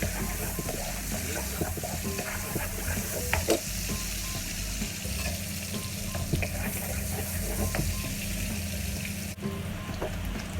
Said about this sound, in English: this one is saute until they get golden color